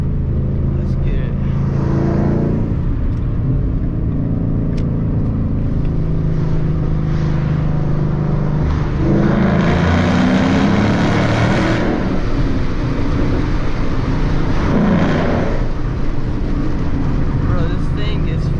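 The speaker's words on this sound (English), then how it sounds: "There's a tunnel coming up, and I want you guys to hear this tunnel rev." A manual Ford Mustang GT in third gear roars through a tunnel, its engine droning loud and steady with booming echo, the revs swelling and easing in waves from inside the cabin.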